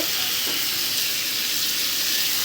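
Ingredients sizzle steadily in a hot pan for a chicken and taro curry, a dense, even hiss heard up close with no talking.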